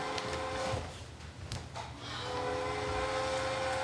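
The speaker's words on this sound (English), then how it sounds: "Whenever I hear that train coming into town" A train rumbles nearby with a steady low roar and sustained tonal horn-like hums, swelling briefly then continuing; no voices.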